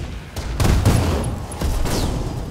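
Mech weapons fire in Roguetech/Battletech: several heavy bursts of shots and booming impacts in quick succession, loud and close, with a faint whistle trailing off, no voices.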